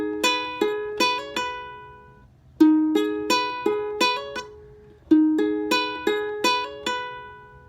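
Ukulele fingerpicking, alone and clear, with a repeating plucked pattern that uses pinky hammer-ons and pull-offs, each phrase starting on a struck note and ringing down before the next begins.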